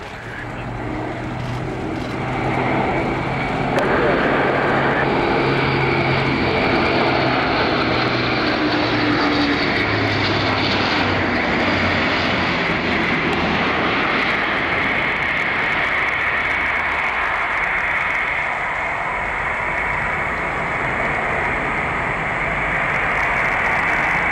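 An Airbus A400M Atlas military transport, in service as the Atlas C1, flies a display at an airshow, its loud continuous turboprop drone sweeping past and slowly fading, with faint commentary underneath.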